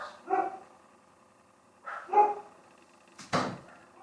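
A dog barks three times at a moderate distance, spaced unevenly with quiet pauses between, the last bark sharper and louder.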